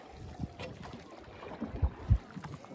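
A small boat moves across Lake Saiful Muluk in the Naran Kaghan area of Pakistan, giving a low, soft rumble of water and wind buffeting the microphone, with a few dull thumps.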